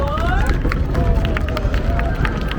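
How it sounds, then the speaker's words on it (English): An audience at a show at African Lion Safari claps and stamps in a fast, rumbling patter, with voices chattering and cheering underneath. "clap your hands, stomp your feet"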